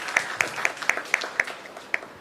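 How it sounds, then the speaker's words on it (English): Sparse, evenly spaced handclaps, about seven sharp claps at a steady beat, from a small audience at a conference session welcoming speakers before a talk on co-designing climate sensors. The clapping is fairly close with no voices over it. "So please do give them a round of applause,"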